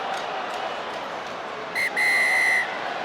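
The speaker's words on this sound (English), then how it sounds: "Pascal Gazer's blown his whistle 2 or 3 times" A rugby referee at a World Cup match between Argentina and Namibia blows a shrill whistle twice, a short blast then a longer one, heard clearly over steady stadium crowd noise.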